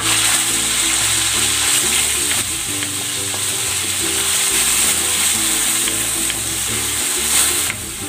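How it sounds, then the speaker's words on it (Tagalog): Pork liver sizzling and frying steadily in a hot pan, a loud continuous crackle with occasional stirring scrapes, no voices over it. "ipiprito ko naman ng bahagya itong liver"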